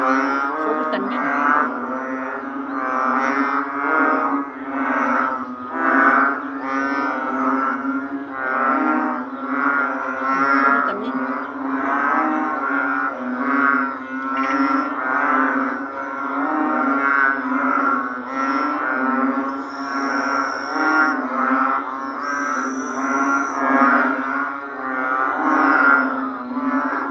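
A dense chorus of narrow-mouthed frogs calls from many species at once, a steady overlapping mass of low, bleating croaks with rhythmic pulses that continues for the whole span, fairly close and loud.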